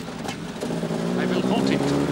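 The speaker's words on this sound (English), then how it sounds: "Listen, there's a car coming." Motor car approaching on a rural road outside a French village inn, a rising engine hum that grows steadily louder over two seconds, with faint voices nearby.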